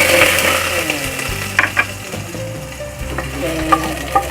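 Chicken pieces sauté in a pan for tinolang manok with a steady loud sizzle, punctuated by a few clinks and scrapes of stirring, close up with no talking.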